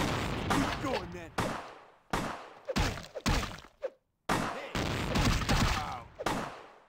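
Shotgun blasts in Vampire: The Masquerade, several loud, abrupt booms cut in sharp bursts with brief silences between, mixed with people talking close by.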